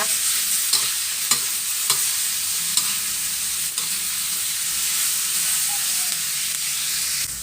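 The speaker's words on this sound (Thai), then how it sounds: "ผัดพริกหยวกให้สุกแล้วค่อยปรุงรสชาตินะคะ" Bell peppers stir-fried with pork belly in a hot pan, a loud continuous sizzle close by with regular spatula scrapes and clicks against the pan, no talking.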